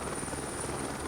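A police helicopter hovers overhead during a search of railway sidings, its engine and rotor making a steady, fairly loud drone with a high whine, without talk.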